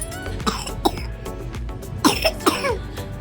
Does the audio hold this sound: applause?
no